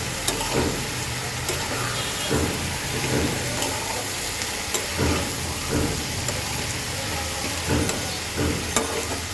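Food sizzles steadily in a hot pan while a utensil scrapes and stirs with repeated clattering strokes, close and fairly loud, with no talking.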